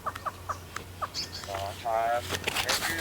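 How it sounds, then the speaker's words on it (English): Birds call in bushveld at sunrise in the Sabi Sand reserve: short chirps and a few cooing, warbling notes, moderately close, with a person talking quietly over them. "it's very peaceful sitting here in the drainage line listening to the birdies"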